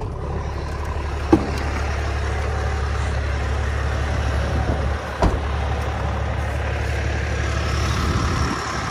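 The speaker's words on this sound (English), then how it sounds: "at least the truck's running and driving now." A pickup truck engine idles steadily at close range, a low, even rumble with a couple of brief knocks and clunks, and no one speaking.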